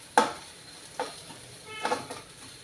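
Rice frying in a spiced tempering for rice upma, a soft continuous sizzle broken by three or four sharp scraping stirs of a spoon against the pan, close and alone.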